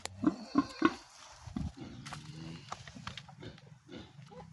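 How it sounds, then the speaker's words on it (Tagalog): Native pigs kept near a coconut grove give three short, close grunts in quick succession, followed by quieter snuffling and rustling noises. "May baboy pala dito."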